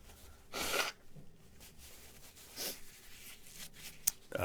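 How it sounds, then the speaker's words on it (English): Someone with a cold blows their nose in a short, breathy burst, followed by quieter sniffs and snorts close to the microphone, with no talking. "I'm going to do a big honk here, blow my nose"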